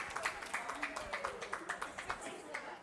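Audience applause at a charity fundraiser auction in an opera house, a steady patter of many hands clapping at moderate distance, with an auctioneer's voice talking over it throughout.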